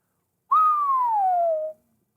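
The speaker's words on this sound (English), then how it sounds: "whistles" A man whistles one long clear note that slides steadily downward for just over a second, alone against silence.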